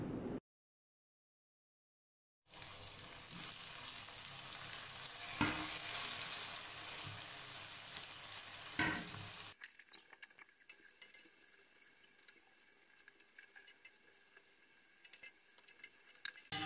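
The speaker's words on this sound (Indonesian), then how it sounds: "Sekarang saya akan goreng dulu ya." Steady crackling sizzle of shrimp wontons frying in hot oil, with occasional pops and clatter, after a short silence; the sizzle softens toward the end.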